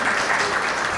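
Audience applause at a policy forum gathering marking a 60th anniversary, greeting the cutting of the first slice of a Javanese tumpeng rice cone; steady, dense clapping fills the whole short moment without a break.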